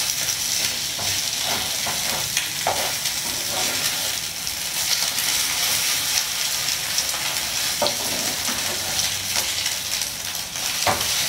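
Thai crispy mussel pancake (hoi tod) frying in a hot pan, a steady close sizzle with scattered stirring and scraping clicks throughout, no voices.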